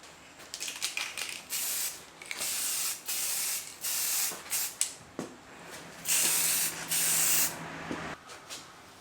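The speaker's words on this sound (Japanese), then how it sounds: "密着プライマースプレータイプ。" Short, close hissing bursts come from a spray can of adhesion primer used while restoring the interior of a Suzuki Jimny JA22. The sprays repeat in quick blasts with a longer final spray.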